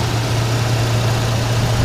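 A 2005 Chevy Colorado Z71 4x4 with the 2.8 liter engine idles steadily, a low constant rumble with a smooth, even hum throughout and no voices.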